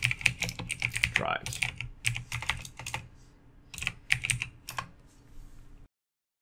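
Bursts of typing on a computer keyboard while renaming a desktop folder, rapid clusters of close key clicks with short pauses between words, alone apart from a faint voice.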